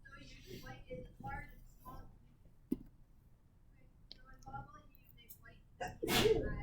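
A single loud sneeze bursts out near the end, following soft talk and a sharp click earlier on.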